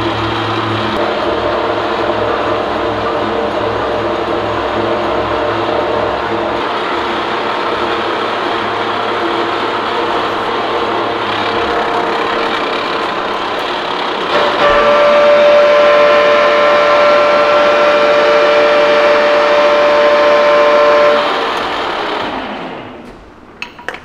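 Horizontal boring mill taking a milling pass on shop-made angle plates, a loud steady machining drone with a sustained chatter whine appearing partway through, running continuously before winding down at the end; no talk.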